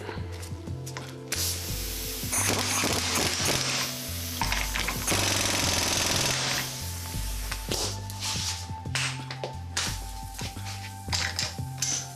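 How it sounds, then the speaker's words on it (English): Impact wrench tightening a nut on a rear wheel bearing of a 1991 Honda Prelude with an H22A engine, loud hammering bursts in several pulses with brief pauses, clanks and rattles between them, close by. "I'm sure there's a torque spec for this, but I'm just gonna impact it."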